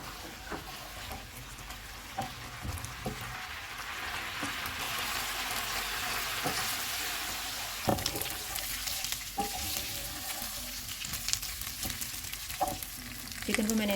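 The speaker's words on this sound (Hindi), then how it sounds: "अब हम चूल्हे को मीडियम कर देते हैं और इसको ऑयल अलग होने तक भून लेंगे" Chicken pieces frying in oil in a pan on medium heat, a soft continuous sizzle with occasional sharp pops and spatter crackles, fairly faint and steady, no talking.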